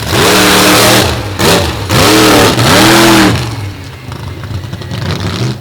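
Wicked Sickness monster truck engine on a dirt track at a 2022 monster truck show, loud close revs rising and falling in repeated surges before dropping to a rougher, quieter idle.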